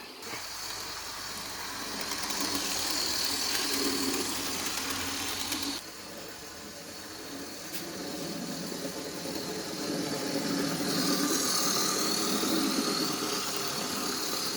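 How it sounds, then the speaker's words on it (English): A twenty-year-old model locomotive with a ring-field motor creeps along at very slow speed, giving a steady close mechanical whir with faint ratcheting gear texture and a brief dip partway through. "you just can't imagine a loco that has run for 20 years, and that basically has a ring-filled motor that can run that slow"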